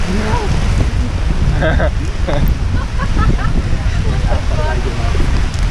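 A heavy monsoon rainstorm in Malaysia roars as a steady, dense downpour with wind buffeting the microphone, while someone talks over the noise.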